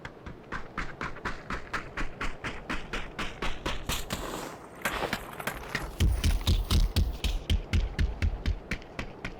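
Rapid footsteps of a character running in PUBG, a fast steady run of thumping steps through a building and up to a second floor, louder and heavier near the end, with no talk.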